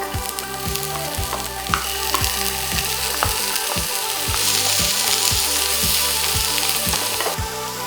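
Chopped onions fry and sizzle steadily in a pan for a garlic chicken dish, with repeated scraping and stirring strokes from a utensil in a regular rhythm.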